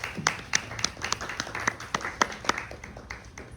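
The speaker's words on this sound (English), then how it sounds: "So big round of applause for Matthias." An audience claps for a speaker at a public dialogue event, the scattered, fairly quiet hand claps coming at an uneven, loose rhythm from a small group.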